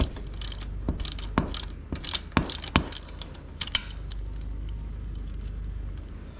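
A 5/8 ratchet wrench loosens a bolt on a Harley twin cam engine, giving a series of close, crisp clicking ratchet strokes in irregular bursts, then a low steady background hum.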